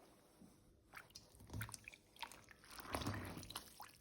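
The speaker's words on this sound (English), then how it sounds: "I'm wetting the bundle" A tied T-shirt bundle is wetted in woad indigo dye, giving faint, close squelches, drips and small sloshes in an uneven rhythm with a louder wet squish near the end.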